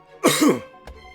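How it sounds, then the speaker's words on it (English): A single forceful cough during a Minecraft gaming session, a loud harsh burst lasting about half a second, followed by a brief softer thump, with no talking. "I had to cough real quick. But man, my coughs are pretty powerful."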